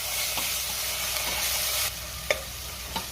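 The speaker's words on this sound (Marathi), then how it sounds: "आता त्यामध्ये आपल्याला हिरवी मिरची घालायची आहे आणि आलं लसणाची पेस्ट घालायची आहे आणि पुन्हा 1 मिनिटभर परतून घ्यायचंय" Green chili and ginger-garlic paste frying with onion for chicken kheema, a steady close sizzle with a few soft stirring clicks and scrapes of the spoon in the pan.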